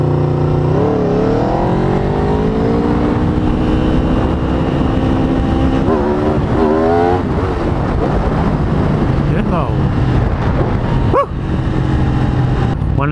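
An Aprilia RSV4 sport motorcycle engine, which redlines at 14,000 RPM, idles loudly up close and is blipped through several sharp rising revs, each climbing to a high snarl then dropping back, with a final quick shriek near the end.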